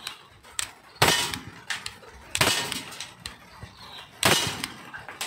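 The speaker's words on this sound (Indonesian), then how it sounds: "langsung aja coba tembakan pertama" Glock 19 pistol fired at a ceramic target, several sharp broadband cracks spaced across a few seconds, with smaller impact clicks and rattles between the loud shots.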